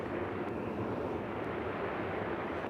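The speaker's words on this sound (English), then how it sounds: "So we got Delta headed to Atlanta in a 737." A Delta Boeing 737 airliner taxiing at Nashville International Airport, a steady broadband engine roar heard from a distance with some wind noise.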